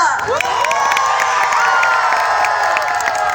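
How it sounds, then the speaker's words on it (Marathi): A large crowd cheers and whoops with shrill shouts at a Maha Sanskritik Mahotsav cultural festival in Jalgaon district, a loud, continuous roar of voices with only light clapping underneath. "जोरदार टाळ्यांनी पुन्हा एकदा स्वागत करतोय आपण रिंकू राजगुरूचा"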